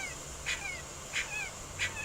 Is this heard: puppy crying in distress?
yes